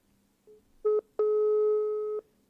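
A telephone busy signal on a call that won't connect: a short faint beep, then two louder tone pulses, the last held for about a second, with no talk over it.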